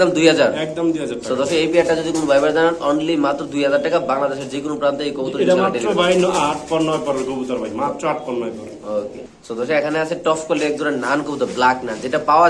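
Nun pigeons coo at a pigeon farm, soft and continuous in the background beneath steady, close-up talking by a man.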